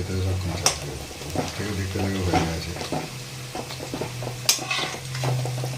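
Fritters sizzle in oil at a wedding house under a voice talking, with a few sharp clacks of a spoon striking the pan.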